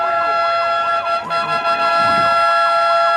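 Ambulance-style siren on a soapbox race car at a downhill caisses à savon race in Longuenesse, wailing in steady rising and falling sweeps, loud and close, with faint crowd noise beneath.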